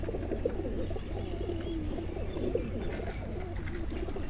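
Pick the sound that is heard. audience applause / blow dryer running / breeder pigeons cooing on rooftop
breeder pigeons cooing on rooftop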